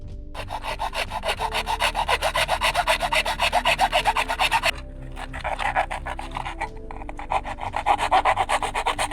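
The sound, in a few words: cutting wooden strips (reepers) to plank width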